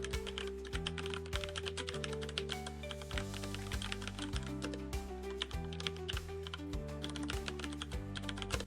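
Typing on a computer keyboard goes on at a quick, even pace, with close, crisp key taps and no talk over them.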